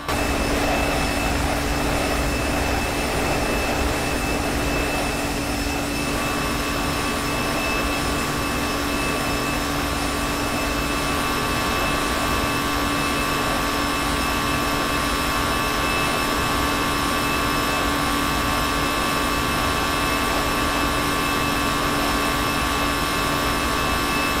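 Airbus A320 jet engines climbing in the X-Plane 11 flight simulator, a steady, unbroken roar with a constant whine running through it, heard alone and evenly loud throughout.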